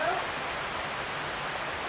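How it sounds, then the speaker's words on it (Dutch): Heavy tropical rain in Curaçao pours down as a steady, dense hiss that stays loud and even from start to finish, with only a brief trace of something else at the very start. "ook hier kan het flink regenen"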